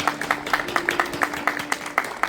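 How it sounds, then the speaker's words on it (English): Scattered clapping from a small group at an inter-school girls' kho-kho tournament, uneven beats overlapping at a moderate distance, with a steady faint hum underneath. "A huge round of applause for them."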